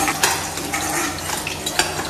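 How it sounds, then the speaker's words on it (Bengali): Fish fry in hot oil in a kitchen pan, a close steady sizzle broken by a few light clinks and scrapes of a utensil, with no talk. "বাকি মাছগুলোকে ভেজে নেবো।"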